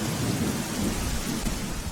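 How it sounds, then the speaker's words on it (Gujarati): Heavy downpour with thunder over Bhavnagar city and its surrounding villages, a loud, steady roar of rain with deep rumbling underneath, continuous and close, with no voices. "ભાવનગર શહેર અને ગ્રામ્યમાં ધોધમાર વરસાદ અને ખેતરોમાં પાણી પણ ભરાયા છે"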